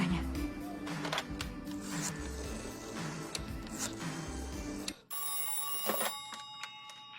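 A telephone rings with bursts of bell tones over room noise and voices, then rings clearer once the background drops out.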